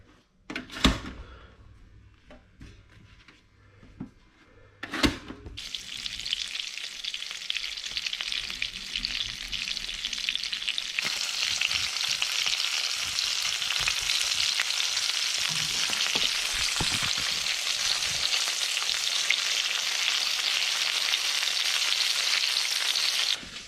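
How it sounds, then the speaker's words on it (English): Flour-and-egg coated abalone pieces sizzle loudly in hot oil with a steady, hissing crackle, preceded by a few sharp knocks and clatters of handling before the frying starts. "So we'll get the rest done now and we'll start frying them up."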